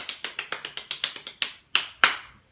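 A wide paddle tapping skin in quick, sharp, clap-like smacks, about a dozen in a rapid even series and then two louder, spaced hits, close and dry.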